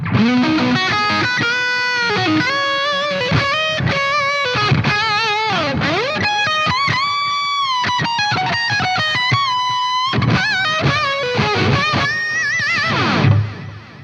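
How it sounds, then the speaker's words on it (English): An electric guitar plays a fast, sustained, singing lead line through a Sinvertek Drive N5+ preamp pedal set for a rack-style third-channel lead tone, loud and distorted with bends and vibrato, heard alone. "If you ever were looking for one of those expensive 3rd channel rack preamp lead tones, this is a really easy way to get it."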